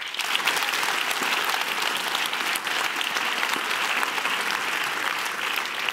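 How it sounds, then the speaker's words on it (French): A room full of people bursts into sustained applause for a performer at an evening stage show, dense and even clapping that fills six seconds with no talk over it. "S'il vous plaît, un tonnerre d'applaudissements pour Philippe Vieux."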